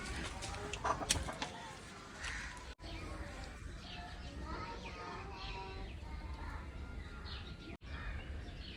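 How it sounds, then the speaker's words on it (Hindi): A hen clucks intermittently amid a busy outdoor farmyard, with a few chirps and low background rumble throughout. "वो देखिए वहाँ पे मुर्गी है"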